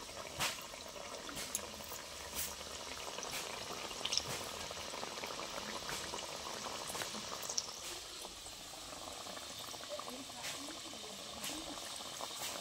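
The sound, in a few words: khaja pastries frying in hot oil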